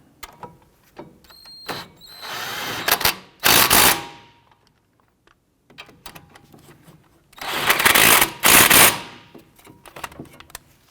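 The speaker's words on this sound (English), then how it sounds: "Let's go ahead and snug those bolts down." Front brake caliper bolts are run down on a 2006-2012 Toyota RAV4 with an impact tool, giving loud, close bursts of rapid hammering rattle in two main pairs, with short quieter ratcheting spurts between them.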